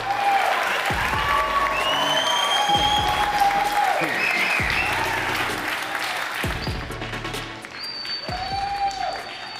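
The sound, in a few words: audience applause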